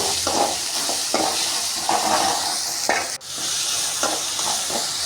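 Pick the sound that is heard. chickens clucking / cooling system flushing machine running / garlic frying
garlic frying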